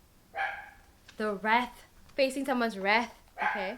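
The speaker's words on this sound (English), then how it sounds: "She just barks sometimes for no reason." A dog barks in a few short bursts while someone talks indoors, the barks mixed in with her voice.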